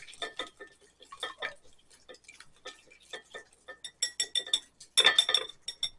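A spoon clinks and taps rapidly against a bowl as apple fritter batter with vanilla extract is mixed, the ticking strokes fairly quiet at first and growing louder and busier toward the end.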